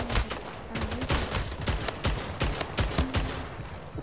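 Rapid bursts of gunfire in the video game Splitgate crackle continuously, dense overlapping shots and automatic fire at close range with a steady rattling rhythm and no talk.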